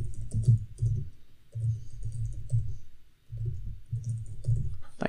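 Someone typing on a computer keyboard, steady clusters of close, crisp key clicks with a short pause midway, alone without talk.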